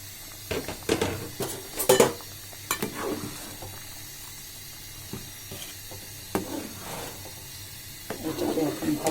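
Grated coconut being stirred into sesame payesh with date-palm jaggery in a pan: a scraping, shuffling spatula sound in irregular strokes with soft sizzling between, close and moderately loud.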